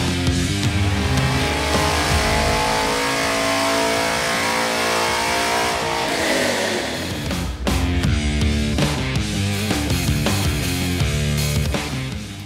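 A loud V8 engine on a dyno, fitted with a FAST LSXr intake and race runners, revs hard and climbs steadily in pitch, drops briefly, then roars again at high RPM, sustained and close.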